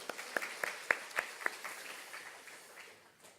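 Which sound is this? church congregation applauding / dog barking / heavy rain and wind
church congregation applauding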